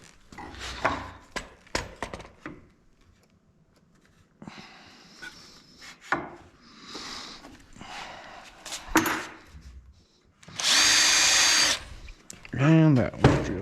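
A power drill boring holes in wooden porch swing parts during assembly, heard in short bursts and one sustained loud run close by, with spoken remarks and breathing between.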